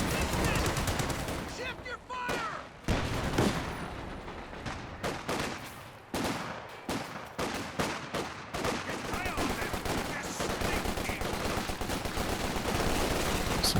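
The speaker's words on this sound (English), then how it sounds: "Some Brens going hard now." Bren light machine guns in the Company of Heroes 2 video game fire in rapid, overlapping bursts, steady and dense throughout. Scattered heavier battle shots mix in under a voice.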